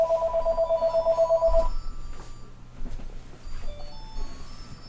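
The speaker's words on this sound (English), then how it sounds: "there's a phone somewhere around here" A telephone rings loudly in a repeating warbling electronic pattern for about two seconds, then stops, leaving quiet room noise with faint movement.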